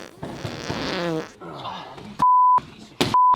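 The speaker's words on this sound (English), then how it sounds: "You're always farting." A fart lasting about a second, a rippling, buzzy low tone, followed by bleeped-out speech and other voices nearby.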